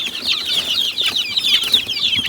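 Chickens clucking softly in a small coop at night, a steady stream of close, high clucks and murmurs with occasional wing shuffles, no talking.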